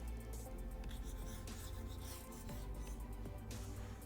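Writing being erased from a board, with rapid back-and-forth rubbing strokes in a continuous, fairly close scratchy rhythm.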